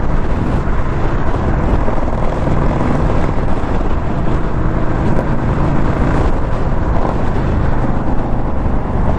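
A 2021 Indian Scout Bobber motorcycle pulls in sixth gear at around 60 mph, a steady, loud engine drone mixed with heavy wind rush, continuous with no pauses.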